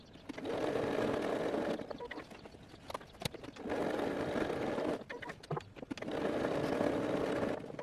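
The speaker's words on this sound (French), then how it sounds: "Je vous conseille de faire un point zigzag en plus pour que ce soit plus solide." A sewing machine runs a zigzag stitch along a fabric tote bag seam in three long bursts of steady mechanical whirring, separated by brief pauses with light handling clicks.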